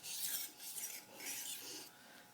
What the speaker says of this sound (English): Spyderco 306 Ultra Fine. We'll just do a couple hand strokes.